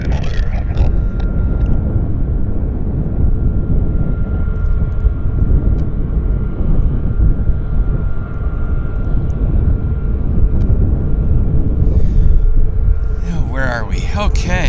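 An airliner bound for John Wayne Airport in Santa Ana taxis at Vancouver Airport YVR, a loud, steady engine rumble and whine continuing throughout with people talking over it.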